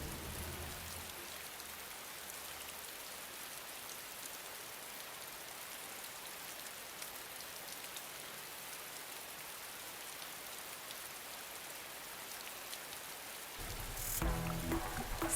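Heavy storm rain pours in a dense, unbroken hiss, steady and loud throughout, with a brief burst of other noise near the end.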